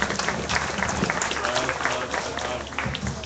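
Audience applause in the show ring at a county fair swine show, after a crossbred gilt class; steady, dense clapping that fills the whole stretch at moderate loudness, with a voice faintly mixed in.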